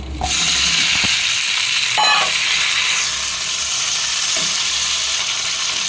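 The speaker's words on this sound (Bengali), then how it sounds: "সবার আগে আলুগুলোকে আমি ভালো করে ভেজে নেবো।" Potatoes fry in a pan of hot oil with bay leaves and whole cumin, giving a loud, continuous sizzle broken by a few sharp clinks and scrapes of stirring.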